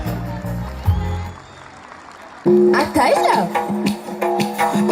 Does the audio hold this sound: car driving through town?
no